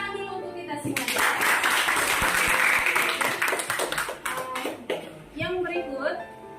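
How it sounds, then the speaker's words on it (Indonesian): Clapping in a classroom-style teaching session on learning and assessment, a group applauding with bursts of rhythmic hand claps mixed with voices talking and calling out over it. "Tepuk tangan dulu untuk kita semua."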